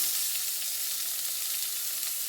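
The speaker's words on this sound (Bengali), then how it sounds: "আর এই অল্প পরিমাণ পেঁয়াজ দিয়ে দিলাম।" Onions fry with a little garlic and green chilli in a pan, a soft, even hiss of sizzling oil that stays steady and fairly faint throughout, with no talking.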